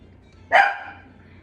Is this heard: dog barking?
yes